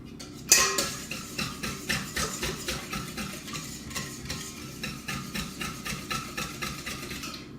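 Batter being whisked by hand in a bowl while making hot dog buns for a long cake mould, a steady rhythm of scraping, tapping strokes after one sharp knock at the start.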